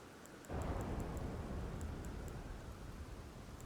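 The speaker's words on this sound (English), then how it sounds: "Angry thunder." Thunder in the video game Elden Ring: Shadow of the Erdtree rolls in suddenly as a deep, heavy rumble, then lingers as a steady, dark roar with a faint rain-like hiss over it.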